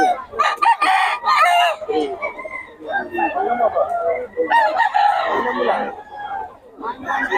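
A Gilmore Hatch Henny gamefowl rooster crows and clucks nearby among other chickens at a seller's yard, with people chatting in the background.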